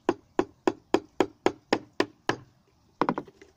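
Hammer striking a screwdriver to punch holes in a plastic cola bottle: eight sharp, evenly spaced knocks, a short pause, then a quick cluster of rapid taps, close and crisp with no talk.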